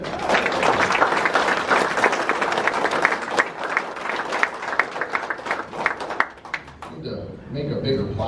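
Audience at a weightlifting meet applauding steadily for about seven seconds, dense clapping with scattered sharper claps, then fading into murmured crowd talk.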